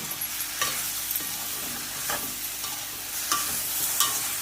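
Vegetables for a millet tawa pulao roast in a pan, a soft steady sizzle with repeated scraping strokes of a spatula stirring them at intervals, close up and without voices.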